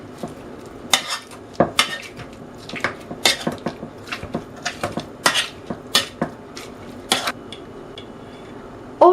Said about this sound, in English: Now we mash the pumpkin with potato masher.